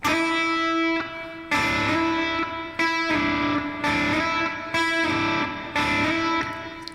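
Distorted electric guitar chords struck in a repeating pattern, each one sliding in pitch along the strings before the next loud strike.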